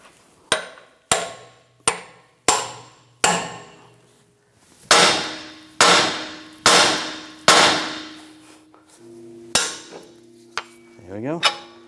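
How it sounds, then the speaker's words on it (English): Hammer blows strike the steering knuckle of a 2009–2013 BMW 328i xDrive to separate the front CV axle. About a dozen sharp metallic strikes ring out close and loud, evenly spaced at first and then slower, with ringing decays. "You could just tap on the knuckle to separate that, or using a pickle fork"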